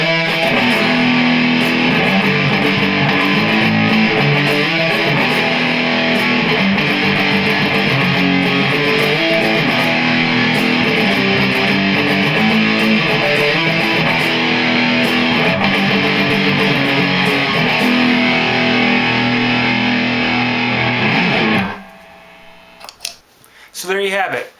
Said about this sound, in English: here we're going to go with the highest setting on the distortion pedal